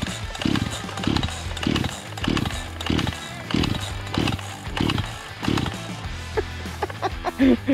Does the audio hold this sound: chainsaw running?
yes